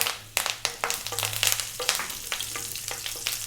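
Fresh curry leaves dropped into hot oil crackle and spit loudly and close, a dense sizzle broken by sharp pops throughout, with no voices.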